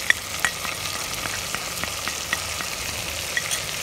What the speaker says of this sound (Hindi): ये सब डाल के हम इसको अच्छी तरह से मिक्स कर लेंगे